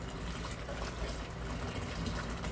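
Hot soapy water splashing and trickling steadily while Harley Sportster cylinders are washed, a dense continuous watery wash filling the whole stretch with no talk.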